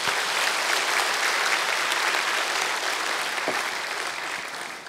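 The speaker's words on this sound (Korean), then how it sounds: "감사의 박수 한번 드리겠습니다" Sustained congregational applause of thanks inside a Korean Baptist church service, a full, dense wash of clapping that holds steady and then slowly fades.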